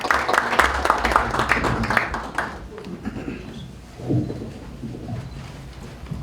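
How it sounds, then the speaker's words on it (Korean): An audience at a Christian political forum in a press-center hall bursts into loud, dense applause that thins out after a couple of seconds and fades into a quieter room murmur. "큰 박수로 맞이해 주시면 감사하겠습니다"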